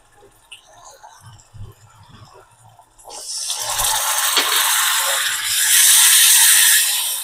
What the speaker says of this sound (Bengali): এই বাটিটা ধুয়ে একটু জল দিয়ে দেবো।